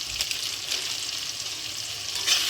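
Spice paste of coriander, cumin, turmeric and red chilli powder with salt frying for aloo dum potato curry, a steady close hiss and sizzle running unbroken for the whole stretch with a slight swell near the end, no voices.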